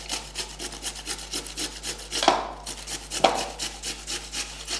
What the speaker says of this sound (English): Okay, so now what we have to do is just the raw potato. All we have to do is just grate it.